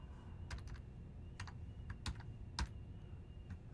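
Quiet typing on a computer keyboard while setting up a network topology: a loose run of light, close key clicks at an uneven rhythm over a faint steady hum.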